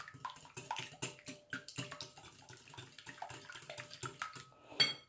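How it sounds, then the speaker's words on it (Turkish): Eggs being whisked in a bowl for crumbly cookie dough, a rapid run of close, bright clinks of utensil against the bowl, steady and busy throughout with a short louder flurry near the end. "Öncelikle yumurtamızı çırpıyoruz."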